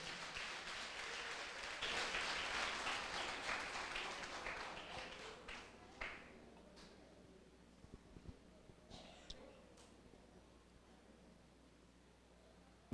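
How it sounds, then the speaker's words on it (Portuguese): A Portuguese-speaking church congregation applauds for Jesus, a dense wash of clapping that swells early and then gradually thins and fades, leaving scattered claps. "Aplauda Jesus se você puder."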